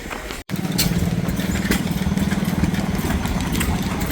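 A big steam engine runs at a thrashing show, a steady low chugging throb with a fast, even beat that holds close and loud throughout, after a brief dropout near the start.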